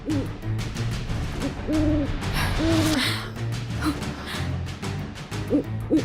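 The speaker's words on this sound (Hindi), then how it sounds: "ये आधी रात को ऐसे उल्लू क्यों रो रहे हैं?" Owls hoot at midnight in a dramatic night scene, giving several wavering, mournful calls in short clusters over a steady low background hum, fairly close and clear.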